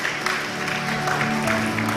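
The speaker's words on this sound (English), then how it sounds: "can we have a great round of applause for Najma Minhas?" Audience applause at an energy symposium for the moderator, a steady mix of clapping under a low hum and faint background voices, moderately loud throughout the short stretch.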